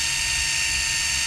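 A motorized fishing reel mounted on a kayak winds at maximum speed. Its steady, loud mechanical whir and ratcheting buzz stay close and continuous throughout, with no talking.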